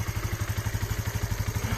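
A 1998 Suzuki GN 125 motorcycle idles close by, its small single-cylinder engine giving a steady, fast, even putter of regular pulses with no other sounds.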